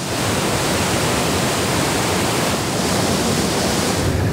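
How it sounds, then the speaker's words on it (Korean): Cool stream of water pouring forcefully down Darian valley, a granite gorge, heard as a loud, steady, unbroken rushing roar with no pauses. "시원한 물줄기가 힘차게 쏟아지는 다리안 계곡."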